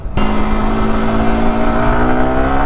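A Yamaha R15 M motorcycle's engine pulls steadily and loudly from just after the start, a sustained rising drone with stacked harmonic tones, as if heard from on board while riding.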